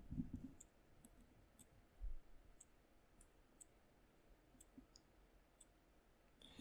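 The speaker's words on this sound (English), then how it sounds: "You should probably be able to hear that watch clicking." A wristwatch ticks faintly at a steady, slightly slowing rhythm of sharp, light clicks about half a second apart. The watch is quiet and close in a hushed room, with a couple of soft thumps between the ticks.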